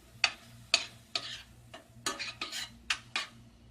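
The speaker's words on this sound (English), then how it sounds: "I'm gonna 1 tablespoon of paprika. Mix it in there." A spoon mixing paprika into onions in a pan gives a series of sharp, close clinks and scrapes, about eight strokes in a loose rhythm over a quiet background, with no voices.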